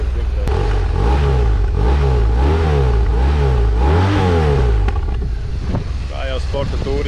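A BMW R1200ST sport-touring motorcycle engine revs up and down in several loud, close swells, the pitch rising and falling rhythmically before settling back to idle.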